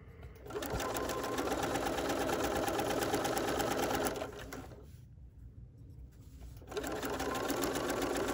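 A sewing machine sews a binding seam on a fabric needle book, whirring steadily and close for about four seconds, pausing briefly, then starting up again.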